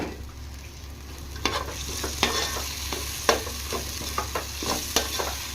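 Masala frying in a pan for an egg vada pulusu curry, a steady sizzle broken by sharp, repeated clicks and scrapes of a spoon stirring against the pan, close and clear.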